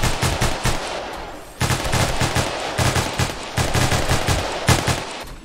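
Rapid bursts of automatic gunfire crackle loudly and continuously in the zombie survival shooter game 7 Days to Die, with a brief pause before the firing resumes in dense, rattling volleys.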